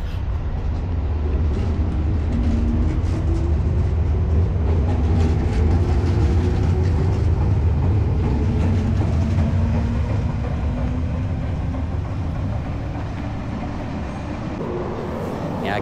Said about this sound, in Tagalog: So ang train maagira na siya bali.